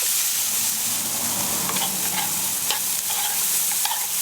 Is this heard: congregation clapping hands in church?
no